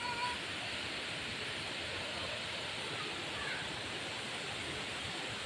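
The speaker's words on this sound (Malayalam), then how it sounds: "വെള്ളച്ചാട്ടത്തിൻ്റെ ഒച്ചയാണ് കേൾക്കുന്നത്." A constant, even roar of a waterfall, faint and distant, steady throughout with no pauses.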